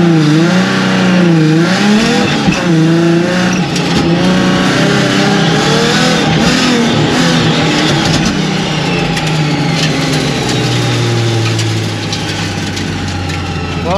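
A car accelerating around an autocross course, the engine revving up and down in repeated loud surges close by, pitch climbing and dropping through the run before settling lower near the end.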